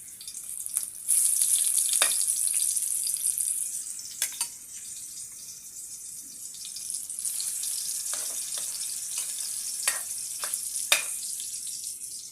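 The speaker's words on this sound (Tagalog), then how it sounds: "nagpakulo na tayo ng mantika guys. Isasalin na natin guys" Hotdog and ham pieces frying in hot cooking oil, a loud steady hiss and crackle with occasional sharp pops and bursts, heard alone without talk.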